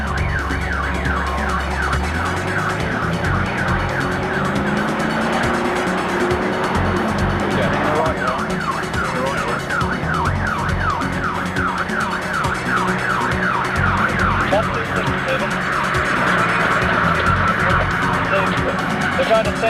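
Police patrol cars race through London traffic toward Trafalgar Square and the Mall, their warbling sirens wailing loud and continuous over a steady rumble of engines and traffic.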